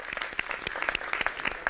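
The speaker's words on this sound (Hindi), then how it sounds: "तालियां" Audience applause at an Independence Day poetry programme in India, a moderately quiet, sustained patter of many hands clapping with a few louder individual claps standing out.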